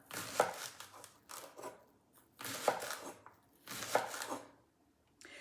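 A knife thinly slices washed leeks on a cutting board for cream of mushroom soup, heard as three close bursts of quick, crisp cuts separated by short pauses, with no talking.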